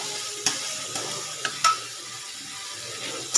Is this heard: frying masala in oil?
yes